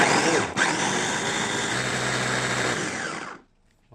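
A blender grinds southern Thai curry paste of red and green chilies, garlic, shallots, turmeric and shrimp paste with a little water, making a loud continuous whirring motor drone that cuts out near the end.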